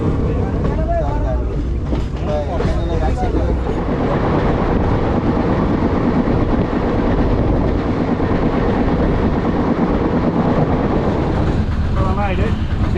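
Indian third-class passenger train running, a steady loud broadband rumble and rattle of the carriage throughout with wind through an open doorway, and people talking over it.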